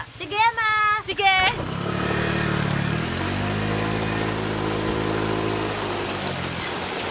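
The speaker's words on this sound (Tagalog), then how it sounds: "Umuulan, isara mo yung bintana." Rain falls steadily in a broad, even hiss that runs under a short stretch of animated voices at the start and continues alone afterward.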